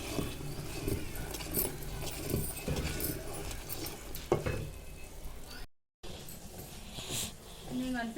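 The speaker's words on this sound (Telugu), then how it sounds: "ఇట్లా పాకము మరుగుతున్నప్పుడు ఒక గ్లాస్ ఆయిల్ పోయాలి ఇందులో." Sugar syrup boils in a pot after a glass of oil is poured in for making ariselu, with a steady bubbling sizzle throughout while someone talks over it.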